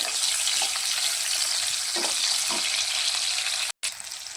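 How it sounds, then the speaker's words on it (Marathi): Chopped onion frying in oil in a kadai crackles with a steady, close sizzle and a few soft stirring knocks, briefly cut off near the end; no one talks. "त्यानंतर चिरलेला कांदा आपण मस्त तेलामध्ये फ्राय करून घेऊया।"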